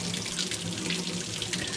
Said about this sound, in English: Get some hot water on there.